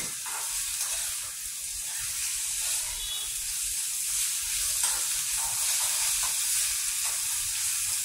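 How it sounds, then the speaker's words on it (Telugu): Ginger and green chillies fry in a pan for an eggplant curry, giving a steady, even sizzle with soft hiss and occasional stirring scrapes, close and moderately quiet with no talk. "మంచిగా అల్లము పచ్చిమిర్చి పచ్చిదనం పోయే వరకు వేయించితే చాలండి"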